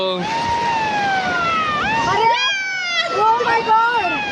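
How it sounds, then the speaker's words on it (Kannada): A beach warning siren at Kasaragod Eco Beach wails continuously, its warbling pitch sweeping up and down, with a crowd murmuring and voices talking underneath. "ಇಲ್ಲಿ ತುಂಬಾ ಡೇಂಜರು ಸೈರನ್ ಹೊಡ್ಕೊಂತ ಇದೆ"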